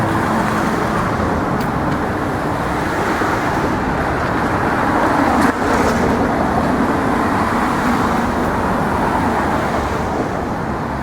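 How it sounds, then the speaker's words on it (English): Cars coming off the West Side Highway at low speed, a steady broadband road rumble that holds throughout with no distinct pass-bys, fairly close and constant, with no talking. "There are cars obviously coming off the West Side Highway, but they're cognizant of my presence here and they're driving very slowly."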